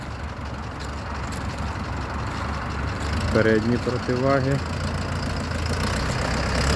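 A 2023 Lovol 504 diesel tractor engine idles with a low, steady rumble while someone talks over it.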